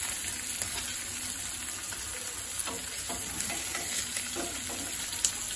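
Dried fish fries in a pan with a steady close sizzle, broken by occasional small pops and crackles throughout. No voices are heard.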